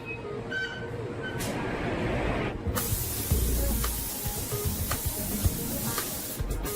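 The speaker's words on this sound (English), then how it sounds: "Only when it's flawless will paint be applied." A spray gun hisses steadily as paint goes onto a Koenigsegg supercar body part, loud and continuous with brief pauses where the spray stops and restarts, and no talk.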